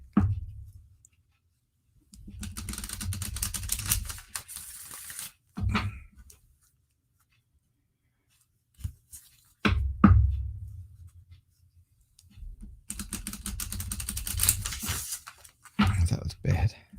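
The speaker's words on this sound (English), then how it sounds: "That was a bad shuffle." Lenormand cards are shuffled in bursts of riffling and flicking paper, several separate spells of shuffling broken by silence and a few sharp taps, close and clear.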